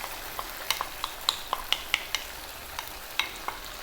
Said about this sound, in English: I'm just going to roughly break them with my spoon.